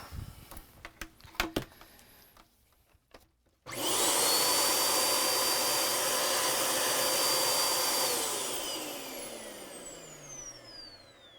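A few knocks and handling clicks, then a Dyson DC14/DC33 vacuum cleaner with no suction starts with a loud steady roar and a thin, slightly screechy whine that slowly eases down.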